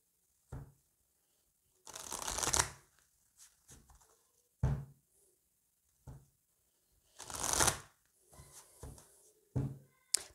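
Oracle cards are shuffled and cut in several separate bursts of riffling and sliding card noise, with small taps and handling sounds between them in an otherwise quiet room.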